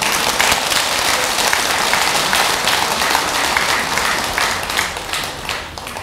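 Audience applause fills a Buddhist temple hall at Jogyesa after a choir performance, loud dense clapping that holds steady before easing slightly toward the end.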